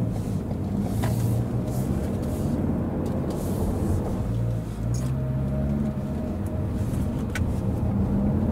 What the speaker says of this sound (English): As you can see, the vehicle easily gets on top of the hill.